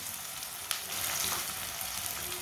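Peas and vegetables with green garlic, green chilli and chopped tomato sizzle steadily in a hot pan, a constant crackling hiss with a faint clink partway through, no voices.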